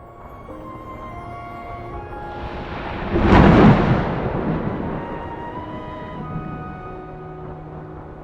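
A deep rumble of thunder swells midway, loud and rolling, then fades slowly beneath a sustained musical backdrop.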